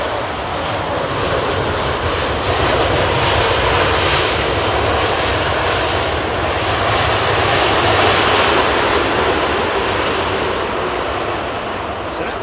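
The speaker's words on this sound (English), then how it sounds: "That was reverse thrusters activated there, but not to the max." Jet airliner landing at Heathrow Airport with reverse thrust engaged at partial power, a broad, steady roar that holds loud and continuous from start to finish, with a faint voice present beneath it.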